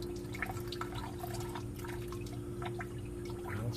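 Hot motor oil draining from a 2013 Ford Explorer, a faint continuous trickle and drip heard over a low steady hum.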